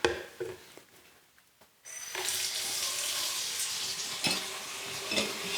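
A quiet start with a few soft clinks of glass jars, then a steady rushing stream of running water fills the rest as the jars are submerged, broad and continuous.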